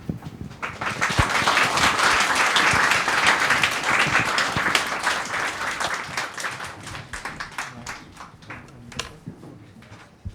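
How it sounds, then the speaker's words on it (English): An audience at a philosophy talk event in a café claps warmly, a full burst of applause that thins into scattered individual claps before stopping. "So everyone, please give a big applause for Mr. Yuk, Mr. Ishida, and Mr. Azuma to st"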